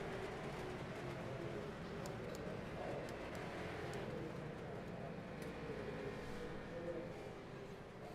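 Street stock race cars roar on the oval at Hickory Motor Speedway as the field comes to the green, a steady, dense engine drone lasting throughout with a commentator's voice running over it.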